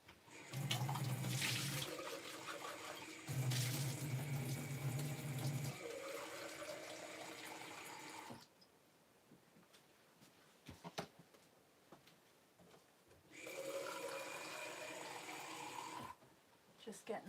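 A kitchen tap runs in two long bursts of steady, close gushing water separated by a quiet pause, with a shorter flow returning later, followed by soft handling clatter.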